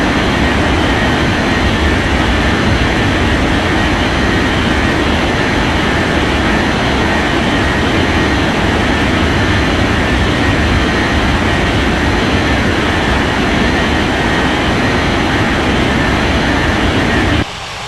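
A jet airliner takes off in an air traffic control game, its engines a steady, loud, broadband roar that holds for the whole stretch without easing.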